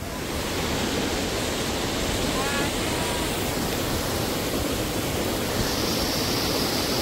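Loud, steady roar of rushing water from a powerful waterfall near Landour, Dehradun, filling the whole clip with constant broadband noise and no pauses.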